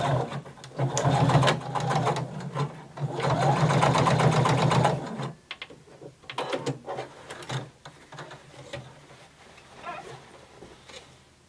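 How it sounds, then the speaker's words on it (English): Close and loud, a sewing machine backstitches at the start of a turned-in denim hem in two sustained runs, followed by shorter stop-start bursts and clicks. "we're going to backstitch at the beginning"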